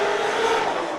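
A Ford Mustang drift car with a 5.2-liter Voodoo engine roars near the end of a run at a Lake Erie Speedway drift competition, a loud sustained engine note that holds briefly then eases slightly.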